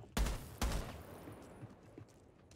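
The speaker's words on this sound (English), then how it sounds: "There's some gun exchange." Two sharp, loud gunshot bursts ring out close together in a Rainbow Six Siege match, each trailing into a decaying reverberant tail, with quieter rattles afterward.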